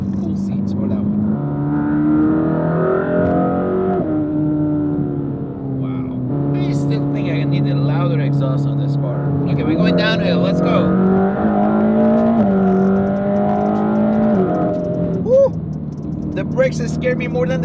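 A Mercedes-AMG Black Series engine drones loudly and steadily from inside the cabin, its pitch climbing through the gears in long pulls with brief shifts, while people talk over it.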